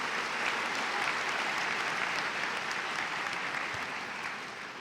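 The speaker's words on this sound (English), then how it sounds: "please give them a round of applause" Dense applause from a large audience at a high school graduation ceremony, steady clapping filling a big hall and tapering slightly toward the end.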